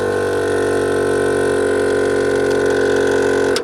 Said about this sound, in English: if you want to turn the compressor on and fill it up